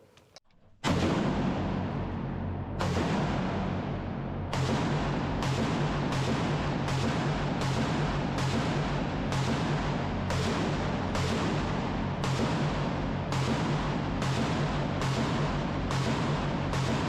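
A 7.62x51 assault rifle fires during ammunition testing at an ammunition facility: a rapid, evenly spaced series of loud, sharp shots, close by, each report ringing into the next.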